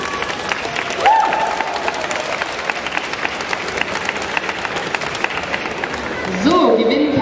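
An audience at a comic con cosplay show applauds throughout, dense steady clapping with some cheering, while a host's amplified voice speaks over it at moments.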